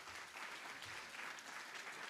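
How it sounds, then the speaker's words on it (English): A roomful of people at an annual meeting clapping in a dense, even burst of applause, steady and fairly close for the whole stretch. "Give yourselves a round of applause."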